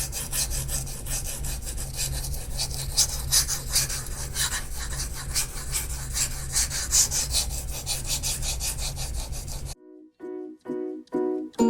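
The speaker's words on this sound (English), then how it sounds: "let's go ahead and start sharpening" A D2 steel knife blade is stroked steadily across a wet Nano-hone sharpening stone, giving a continuous rhythmic rasping scrape, close and fairly loud, before the stroking stops and a few short, separate scrapes follow.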